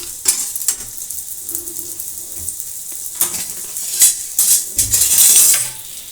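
Tiffin batter roasting in ghee in a pan, with a steady close sizzle punctuated by scrapes and clinks of a utensil against the pan, and no voices.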